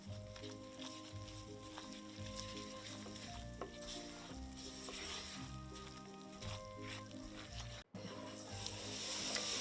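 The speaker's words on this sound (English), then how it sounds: "Sprinkle in the flour and stir it straight into the butter. This is a roux and it needs a minute or 2 on the heat." Flour sizzles softly in melted butter as a roux cooks in a pan for vegan sausage gravy, a faint steady frying hiss with light stirring scrapes throughout.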